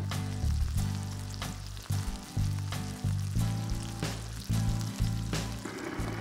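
Salmon fillets cook in a frying pan with a continuous close sizzle, broken by a few short clunks and scrapes as the pan or fish is moved, and no voices.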